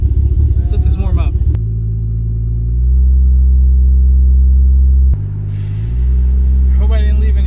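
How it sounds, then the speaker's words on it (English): A Toyota Supra MK4 (A80) turbo engine idles lumpy and uneven while warming up, a loud low rumble with rhythmic stumbling pulses and a brief dip partway through, with a voice speaking over it. "Seems like it's idling worse."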